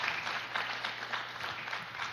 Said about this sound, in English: will you please give these people on the stage a round of applause?